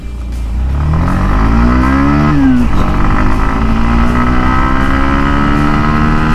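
A brand-new 160cc Hero Xtreme 160R Stealth 2.0 motorcycle with 17.7 km on its engine revs loud and close, pitch climbing steadily as it accelerates from 0 to 60, one brief dip at a gear change, then a sustained rising drone.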